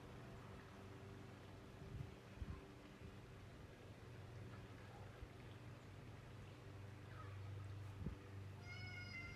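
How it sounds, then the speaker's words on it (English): A house cat meows a few times in a quiet indoor room, the soft calls close and faint over low background hum, with a couple of brief thumps. "I believe my cat is making an appearance here in this video."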